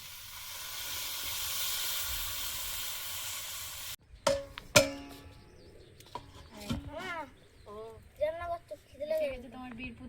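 Water poured into a hot pan sets off a loud, steady sizzling hiss for several seconds that cuts off abruptly, followed by clattering and people talking.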